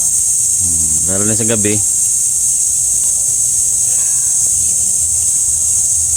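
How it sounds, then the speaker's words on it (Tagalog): Crickets chirp in a loud, steady high-pitched drone at night at an eco resort in Pagbilao, Quezon, continuing under a man's brief speech. "Kuliglig."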